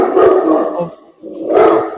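A dog barks and howls at someone coming to the door, two loud, close bursts separated by a short pause.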